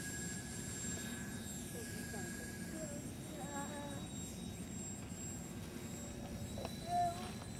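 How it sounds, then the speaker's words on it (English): A PBY flying boat taking off gives a steady, fairly distant drone of engine noise throughout, with faint voices nearby. "That was a pretty decent takeoff, wasn't it?"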